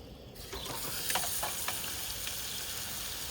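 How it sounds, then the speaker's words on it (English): Steady crackling sizzle of butter in a hot frying pan while cooking a Swiss Angus ribeye steak, with a few sharper pops and spits over a constant frying hiss. "just wait for this sizzle"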